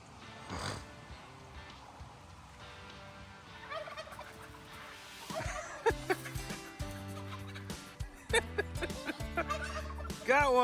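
A turkey gobbles repeatedly and chickens cluck nearby while the birds are moved to a new coop in the rain, the calls loud and irregular.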